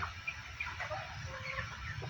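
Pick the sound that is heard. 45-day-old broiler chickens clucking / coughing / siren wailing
45-day-old broiler chickens clucking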